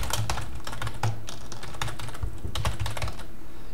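Someone types code on a computer keyboard in rapid, steady bursts of key clicks, heard close and continuous with no voices.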